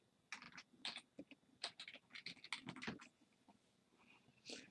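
Rapid, irregular clicking of keys on a computer keyboard as a web address is entered, close and fairly quiet, with bursts of keystrokes and short pauses and no voices.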